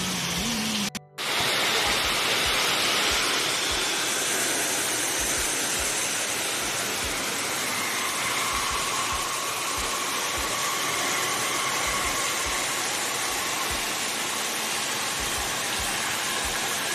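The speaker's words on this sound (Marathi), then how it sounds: "पावसाची सर बघा जोरात आली एकदम" A heavy rain shower pours down in Konkan among trees and shrubs, a dense, loud, steady hiss that runs without a break after a brief dropout near the start.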